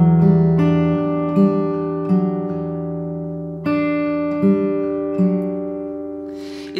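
Fingerpicked acoustic guitar notes on the third and fourth strings ring out in a slow repeating pattern, each plucked note sustaining clearly over a held chord, close and alone.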